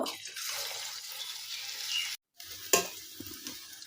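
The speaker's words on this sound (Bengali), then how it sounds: "একইভাবে আমি এই বড়াগুলো আমি ভেজে নিলাম" Fritters of rice, lentil and Malabar spinach leaves fry in hot oil with a close, continuous sizzle, broken by a short gap, then soft stirring clatter and sputter.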